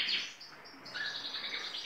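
Canaries in breeding cages give short, high chirps and thin whistled tweets, a few notes in quick succession, fairly close and soft, with no talking.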